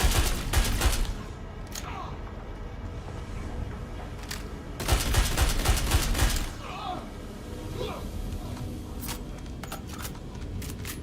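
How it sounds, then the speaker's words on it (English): An AK rifle fires in Star Citizen in uneven bursts, quick at first and then slowing, with sharp repeated shots, a heavier cluster in the middle and scattered single cracks after, set against a low game background. "This AK is so slow to fire."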